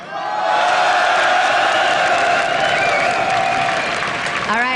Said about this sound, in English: That's when really the first like super home crowd cheer that's really came out